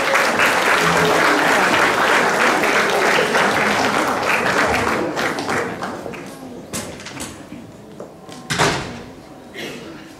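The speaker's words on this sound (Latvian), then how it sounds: "Ar aplausiem pavadām skolotājus!" Audience at a school token evening applauding the teachers, steady dense clapping that thins out halfway through, leaving scattered claps and a few knocks.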